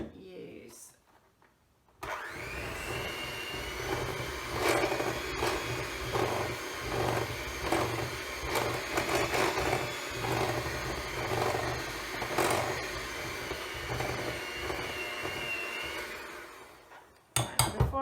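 Electric hand mixer whirring steadily through cupcake batter, loud and continuous for about fifteen seconds with slight fluctuations as it works, stopping near the end.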